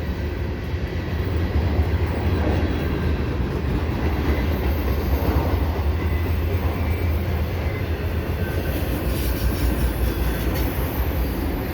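A CN eastbound freight train with tank cars and mixed freight rolls steadily past at close range, a continuous loud rumble of wheels and cars with faint rail squeal, no voices.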